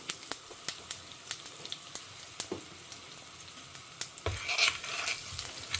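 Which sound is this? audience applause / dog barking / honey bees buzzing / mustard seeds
mustard seeds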